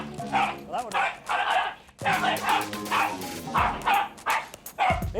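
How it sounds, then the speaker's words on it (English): A small, aggressive dog barks repeatedly in loud, close bursts with yips mixed in, while people talk over and between the barks. "he's got a good bark, hasn't he?"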